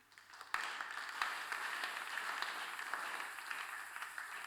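A church congregation claps and cheers for Jesus, a sudden swell of broad, sustained applause that holds steady throughout.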